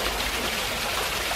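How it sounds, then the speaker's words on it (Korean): Small indoor waterfall in a fern greenhouse on Anmyeondo, a continuous close rush of splashing water with no gaps or voices. "물소리가 시원한 아담한 폭포가 양치 전문 온실에 숨어있네요"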